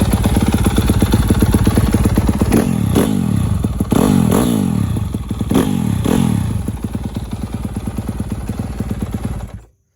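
A 2019 Yamaha YZ250F dirt bike, worn and rough, runs loud and close, its engine idling with a rapid rattling pulse and rising in several short throttle blips before cutting off.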